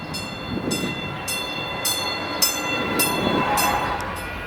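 A Denver RTD W Line light rail train rolls steadily with a continuous rumble and periodic rhythmic clunks, with a faint high tonal whine, heard from aboard.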